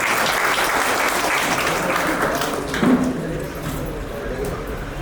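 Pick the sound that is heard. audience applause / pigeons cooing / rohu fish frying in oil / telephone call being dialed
audience applause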